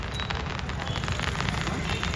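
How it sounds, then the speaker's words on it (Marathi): Firecrackers going off during a Shivjayanti procession in Satara, a dense, continuous crackling and popping wash heard from a distance, steady throughout with no clear single bangs standing out. "मागे तिकडे फटाके उडत आहेत."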